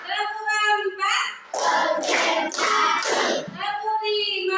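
A classroom of students claps four times in unison on command, the claps loud and close and evenly paced, with voices chanting before and after.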